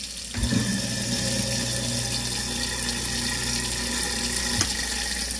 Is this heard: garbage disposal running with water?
yes